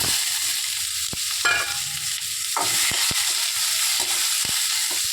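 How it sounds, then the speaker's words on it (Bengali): Chopped onion sizzles steadily in goat fat with cumin seeds for a Bengali pea ghugni. The close, continuous frying hiss is broken by sharp spatula scrapes and taps against the pan. "তারপরে দেখো দিয়ে দিচ্ছি পেঁয়াজ কুচি"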